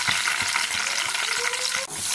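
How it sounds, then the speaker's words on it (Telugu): Green chillies fry in oil over a low flame, giving a steady, close hiss of sizzling with a few soft stirring knocks throughout and no talking. "ముందుగా పచ్చిమిర్చి నూనెలో వేసి సిమ్లో పెట్టుకుని పచ్చిమిర్చి వేగనిద్దాం."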